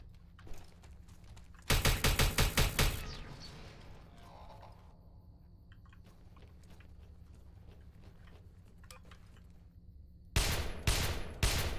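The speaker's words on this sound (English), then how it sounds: "Listen to that sweet pistol sound, though." Pistol shots in the sci-fi shooter Interstellar Marines, two short loud bursts of quick, sharp repeated shots separated by a long stretch of quiet mechanical and ambient game noise.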